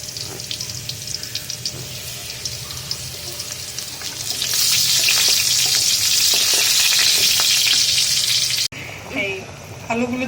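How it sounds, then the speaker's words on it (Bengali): Potatoes fry in a pan on a home stove during a beef head curry cooking session, giving a steady hiss that rises louder partway through, with stirring and brief water tap or sink sounds near the end. "আলু ভেজে নিব।"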